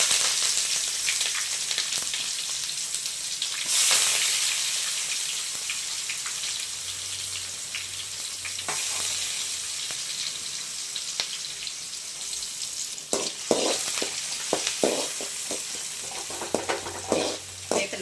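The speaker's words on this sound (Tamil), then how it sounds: "நல்லா வதக்கிக்கலாம். வெங்காயம் வதங்கி வரட்டும்." Steady sizzling and crackling of onions and curry leaves frying in hot oil, with occasional stirring scrapes and a few louder pops toward the end, no talking.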